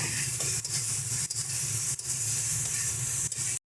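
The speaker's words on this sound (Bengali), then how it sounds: "মশলাটা খুব সুন্দরভাবে ভাজা হয়ে গেছে। মশলাটা থেকে তেলও ছেড়ে দিয়েছে" Spice paste for katla fish sizzles steadily in hot oil, a dense continuous fry with faint stirring, no voices, stopping abruptly just before the end.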